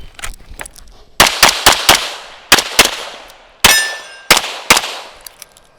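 Rapid gunshots ring off steel targets during a practical shooting movement drill: about a dozen sharp, loud cracks in quick uneven bursts, some followed by a metallic clang and ringing from struck steel.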